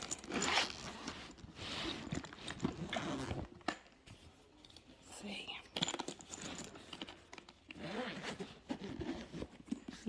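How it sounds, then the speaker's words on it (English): The zipper on an insulin pump carry bag is pulled open in several rasping strokes, close and crisp, with quiet rustling of the bag's contents between pulls. "unzip this."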